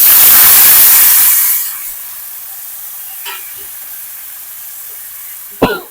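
Home-grown tomatoes drop into a hot pan with browning urad dal, setting off a loud burst of sizzling and hiss that quickly settles into a quieter simmer, with a few faint stirring clinks and one sharp knock near the end.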